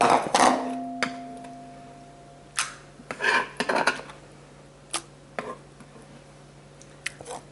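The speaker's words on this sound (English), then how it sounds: "From here, you scoop all this into a bowl." Chopped fresh tomatoes for salsa being scooped into a bowl, a handful of close wet squishes and clattering knocks of utensil against dish, scattered irregularly over quiet pauses.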